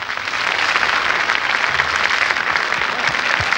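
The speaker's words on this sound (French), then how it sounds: "on l'applaudit encore très fort." Studio audience at a 1981 French televised children's singing contest claps hard and continuously, a loud, even wall of applause with no talking.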